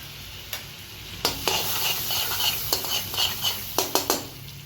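Cumin seeds fry in butter in a very hot wok, a soft sizzle running underneath sharp metallic clinks and scrapes of a spoon against the pan, striking in irregular bursts.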